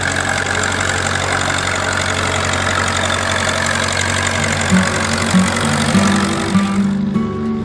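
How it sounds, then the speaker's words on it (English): A vintage Austin diesel tractor engine, running through a vaporizer, idles with a steady low chugging rumble, close and continuous, with a slight knock in its rhythm. "the rare and unusual Austin that runs on diesel through a vaporizer"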